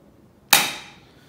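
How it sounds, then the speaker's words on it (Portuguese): A single airsoft gun shot strikes a homemade target with a sharp, loud close crack that rings out and fades over about half a second, with quiet before it. "Mas quando eu dou o tiro não volta mais."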